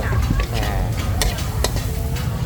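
Pad thai ingredients with shallots, preserved radish, dried shrimp and tofu being stir-fried in oil in a pan at a temple fair stall, a steady loud sizzle with scraping stirs and a couple of sharp utensil clanks.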